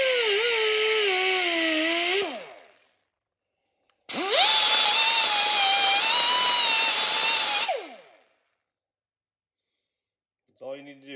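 A power tool whirs in two sustained bursts, each winding down at the end, while cleaning carbon off a valve seat on a Subaru Sambar cylinder head; it is close and loud, with short pauses between the bursts.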